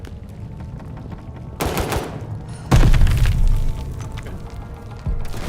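Rapid pistol shots crack out in bursts in the video game Call of Duty: Vanguard, loud and dense, with a brief spoken word in the middle.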